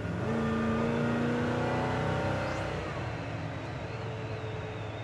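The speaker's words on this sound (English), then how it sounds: "Truck has good acceleration." A 1969 GMC C1500 pickup with a 350 engine accelerates hard, its rising revs loud and close at first before the engine note eases and settles into a steadier drone.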